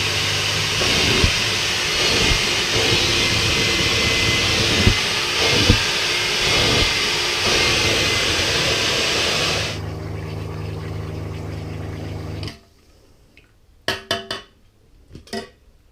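An Alltec carpet spotter extraction machine with its heater runs as a loud, steady motor and pump roar. The note shifts partway through, then the machine cuts off, leaving quiet with a few knocks and clicks.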